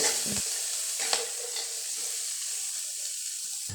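Pork sisig sautéing with pepper and liquid seasoning in a pan, a steady close sizzle with a few scraping stirs near the start and no talk.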